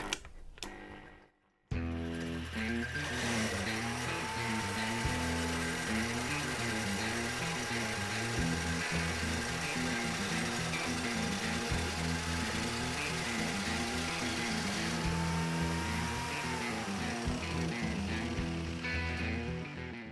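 An electric drill turns an ERKO hole saw on an easy-clip arbor to enlarge an existing hole, running at reduced speed. A steady, continuous whirring grind with a fluctuating pitch follows a short pause near the start, close and loud.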